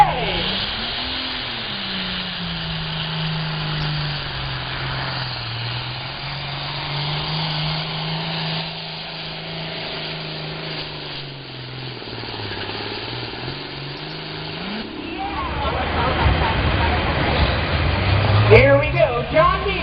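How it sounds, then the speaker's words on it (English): A John Deere 8410 pulling tractor roars under load at a county fair tractor pull, a loud sustained engine drone whose pitch sags and climbs before swelling into a harsher, louder burst near the end. "Super Farm, brand new this year, got the green flag out. John Deere 8410, Mike Connie in the cockpit."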